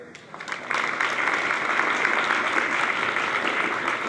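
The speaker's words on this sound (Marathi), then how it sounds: "आपण पहिल्या प्रथम सर्वांनी जोरदार टाळा वाजवा" A student audience at a traffic-rules talk breaks into loud, sustained applause that starts abruptly and keeps going steadily to the end.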